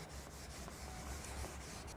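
Hands rubbing over a body make soft, rhythmic brushing and scraping strokes, a repeated swishing pattern that is quiet and close, with no talking.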